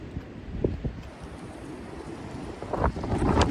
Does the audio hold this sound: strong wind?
yes